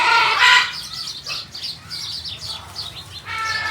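Large parrots in an enclosure being fed peanuts, sunflower seeds and corn, giving loud nearby squawks and chattering calls with bursts of flapping and rustling movement.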